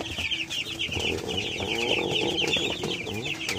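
Cobb 500 broiler chicks at about eight days old, a flock chirping and peeping close by in a continuous overlapping chorus with a few lower clucks underneath.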